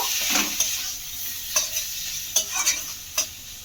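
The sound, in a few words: potatoes frying in oil being stirred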